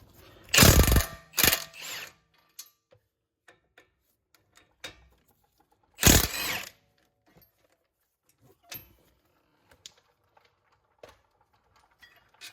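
18 mm caliper bracket bolts on a 2014 Ford Explorer Sport being undone with a breaker bar: a few sharp, loud mechanical cracks and ratcheting bursts near the start and again midway, followed by faint ticks and small metallic clicks in near silence.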